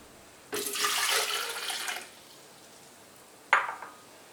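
Water is poured into a bowl while making homemade steamed pastilla dough sheets: one splashing pour of about a second and a half, then a brief second splash a moment later, fairly close and with no voices.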